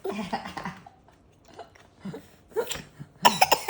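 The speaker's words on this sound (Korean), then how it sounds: "콜록콜록 할 때 물 마셔야 돼?" An 11-month-old baby coughs a few times in short bursts, close by, between soft breathy sounds and brief quiet pauses.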